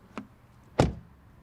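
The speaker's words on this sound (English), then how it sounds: "Then door closing sound." An Audi A3 sedan door shuts with a single solid thud, preceded by a lighter click, close by in a quiet setting.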